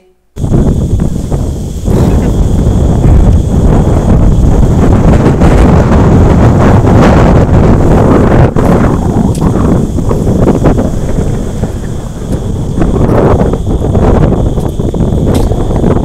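Strong wind buffets the microphone in a loud, continuous roar with gusty surges, no voices heard.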